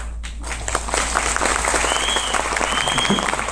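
Crowd applause in a lecture hall during a motivational talk, dense and sustained clapping from many hands that swells after a brief quiet start and stays loud to the end.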